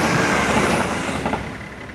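A train rushes past a railway lineside spot on a cold day in a loud, broadband roar that fades a little toward the end, with no voices.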